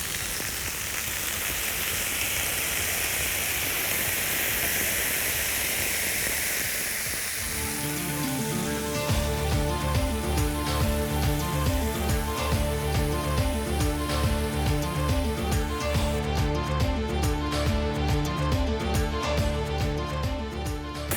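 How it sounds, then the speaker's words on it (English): Beef tenderloin kebabs sizzle on a fully heated griddle, a loud steady hiss that thickens into dense crackling, spitting fat as the meat is spread out, with no one speaking. "Now that the griddle is fully hot, I can put my beautiful kebabs on, spread them out,"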